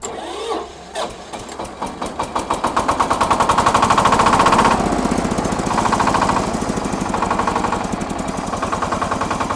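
A mini tractor engine cranks and catches, then settles into a loud, rapid, even diesel chugging close by, with the pulses shifting slightly as it runs.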